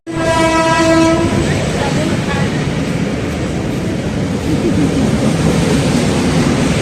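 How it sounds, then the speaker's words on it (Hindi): A train passes close by, sounding its horn loudly at the start over a continuous heavy rumble and rattle of wagons that fills the whole stretch. "ट्रेन की आवाज आवत है"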